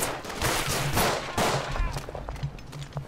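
Gunfire in the World War 1 trench warfare game Verdun, a dense run of loud, close shots and bursts that thin out into scattered, fainter reports toward the end.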